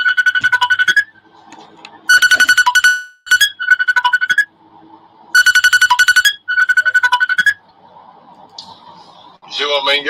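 Repeated electronic ringback or ringtone pattern from a phone placing an outgoing call, loud bursts of chirping tones in regular groups separated by short quiet gaps, with brief faint noise between rings.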